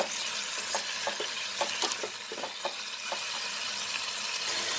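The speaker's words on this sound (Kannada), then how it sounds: "ಸ್ವಲ್ಪ ಚೆನ್ನಾಗಿ ಫ್ರೈ ಆಗಬೇಕಿದು." Green chillies fry in a pan for tomato chutney, with a steady bright sizzle and a series of regular spoon-stirring scrapes and taps throughout, close and moderately loud, with no talking.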